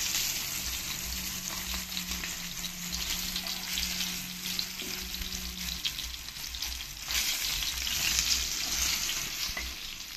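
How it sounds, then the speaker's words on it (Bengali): Pieces of rohu fish frying in a pan of oil, a steady close hiss and crackle that runs the whole time with a faint low hum beneath; no one speaks. "আমি পরের মাছগুলো একই রকম করে ভেজে নেব।"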